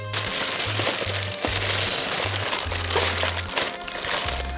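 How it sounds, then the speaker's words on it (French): Takeaway Lebanese mezze platter being unwrapped, with steady close crinkling and crunching of packaging over a continuous background hum, loud and busy throughout. "on va déballer ça en live"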